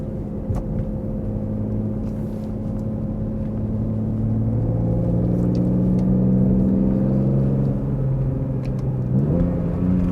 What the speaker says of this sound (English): match downshifts sound sweet compared to no rev match downshifts